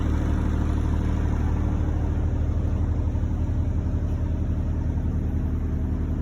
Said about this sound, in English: Yep, got the car running, the headlights on it.